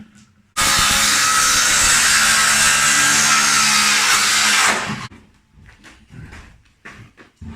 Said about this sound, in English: I can just cut the lock off and plastic again.